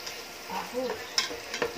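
Garlic is added to a hot pan while cooking chicken with tomatoes and is stirred in. Close scraping and stirring sounds over a soft sizzle, with a couple of sharp clinks from the utensil against the pan.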